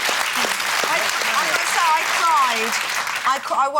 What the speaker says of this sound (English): I would say it's worthy, you lot, of Yeah. a round of Yeah. applause.